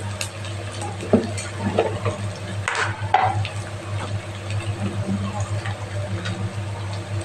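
Spice powders fry with onion and ginger in a pan, giving a soft sizzle with occasional spoon scrapes and light taps against the pan, close but fairly quiet.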